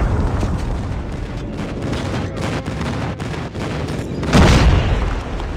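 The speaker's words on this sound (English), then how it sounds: "Enemy airstrike incoming. Be careful. Hostile Predator missile inbound." Predator missile airstrike explosions in Call of Duty Mobile, heard as a dense, continuous roar of battlefield gunfire and booms, with a heavier, louder blast surging up near the end.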